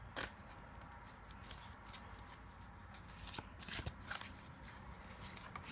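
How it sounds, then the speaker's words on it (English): A deck of tarot cards is shuffled by hand in a quiet room, giving soft, scattered riffling and snapping bursts that grow busier toward the end, with no talking. "I'm gonna shuffle again until a house is at the top of the deck"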